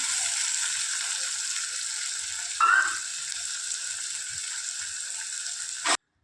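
Oil tadka tempering sizzles in a pan for a cauliflower (gobhi) dish, a steady close hiss that holds evenly for about six seconds, swells briefly midway, then cuts off abruptly.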